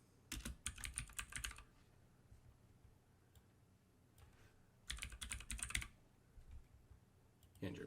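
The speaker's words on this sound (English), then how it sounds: "Again, type in your name." Keys on a computer keyboard clatter in two quick bursts of typing while a name is entered during a Linux install in VirtualBox, with quiet pauses and a few isolated taps between.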